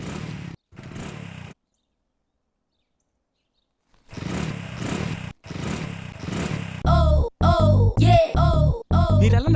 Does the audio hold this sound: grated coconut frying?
no